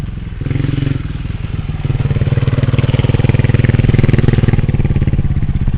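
A motorbike engine runs close by on a bush trail, a loud, steady pulsing chug that builds slightly in intensity with a few clattering knocks, and no speech over it.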